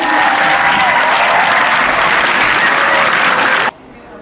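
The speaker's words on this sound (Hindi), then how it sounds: "तो तालियों से पूरे जोरों से आप स्वागत करेंगे।" Loud, dense applause from a large crowd, sustained for several seconds before cutting off abruptly.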